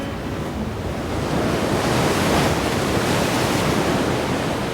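Sea waves crash against rocks at the foot of cliffs at Jobourg, a dense, continuous roaring wash with wind buffeting the microphone, loud and unbroken, swelling slightly in the middle with no voices.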